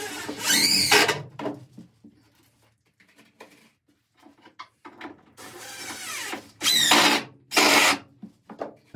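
A power drill bores short pilot holes into a narrowboat floor board, several brief close whirring bursts separated by quiet pauses and faint handling clicks.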